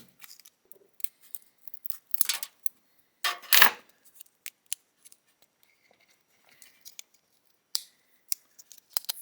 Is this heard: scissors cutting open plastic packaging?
yes